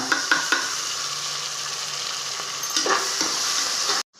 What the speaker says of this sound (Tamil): இப்போ நம்ம இஞ்சி பூண்டு பேஸ்ட் போட்டுக்கலாங்க